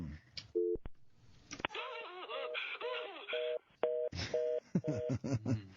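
A telephone busy signal follows a recorded operator message, its tone pulsing in short regular bursts. Brief speech comes near the start and at the end, and some dial tones are mixed in.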